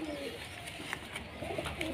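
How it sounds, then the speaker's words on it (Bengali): Desi pigeons coo softly and continuously at close range for about two seconds, with a low murmur of background noise beneath them. "দেশি আর পিওর দেশি পায়রা"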